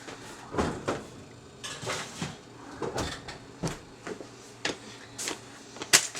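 Homemade vegan pizza goes into a home oven amid a run of kitchen clatter: oven rack and tray knocks, metallic clinks and a door thud, irregular bumps spread over several seconds with no talking.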